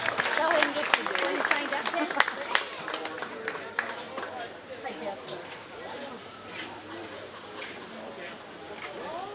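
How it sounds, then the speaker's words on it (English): Audience applause for exhibitors at a county fair 4-H swine show, a steady patter of clapping with crowd murmur that starts strong and gradually thins over several seconds. "let's give these 3 exhibitors for your pen of 3 a big round of applause"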